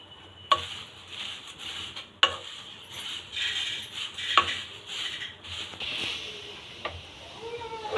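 Poha, flattened rice, being dry-roasted in a pan on a stove over a medium flame, with dry scraping and stirring clatter and sharp utensil clicks against the pan, moderately close, irregular, no talking.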